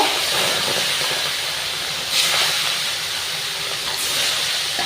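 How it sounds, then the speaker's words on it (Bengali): Rohu fish fry in very hot oil in a wok, giving a dense, continuous hiss that stays loud and close and swells briefly twice. "কড়াইটার তেলটা খুব গরম হয়ে গেছে আমি মাছগুলো এবার ভেজে নেব"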